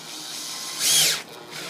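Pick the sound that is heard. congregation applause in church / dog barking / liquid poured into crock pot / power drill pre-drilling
power drill pre-drilling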